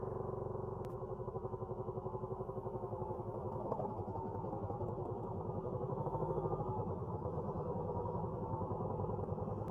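A Harley-Davidson V-Rod motorcycle rumbles through a roundabout in a steady, loud, pulsing engine drone that carries on without pause, with wind buffeting and no talking.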